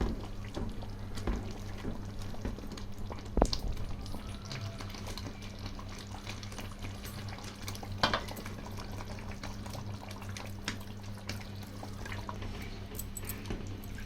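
Fish pieces going into a simmering tamarind fish curry, a steady bubbling and watery churn close by with a couple of soft thuds, no talking.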